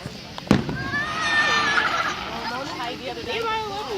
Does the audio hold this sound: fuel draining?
no